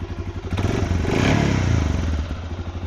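Stock exhaust of a 2019 Suzuki KingQuad 400 FSI ATV running steadily close by, a loud, throaty single-cylinder rumble with a slight rise in revs midway.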